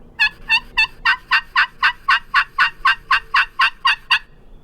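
A turkey call gives a steady run of about fourteen sharp clucks, evenly spaced and loud, close by with no other sound.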